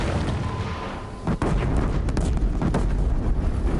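Missile explosions and booming blasts in Horizon Zero Dawn combat, dense rumbling bursts with sharp transients, loud and continuous over a noisy battle backdrop.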